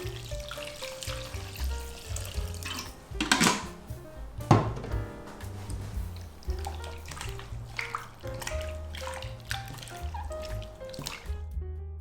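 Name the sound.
washing flour dough in a bowl of clean water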